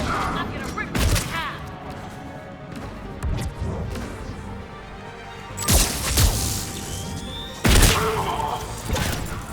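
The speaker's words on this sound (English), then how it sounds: "Let's do a shotgun spree." Shotgun blasts in Mass Effect 3: a few loud, widely spaced booming shots with crashing tails over ongoing combat noise, and a voice talks between them.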